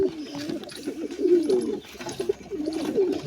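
Pigeon chicks in a nest give soft, repeated cooing and low burbling calls, close and fairly quiet, in short uneven bursts with no talking.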